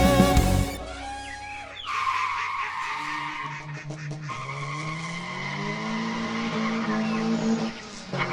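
A car steered by autonomous driving software on a deserted planet skids badly, tyres squealing loudly in a long, wavering screech after a sharp initial burst, with the engine noise rising and falling underneath.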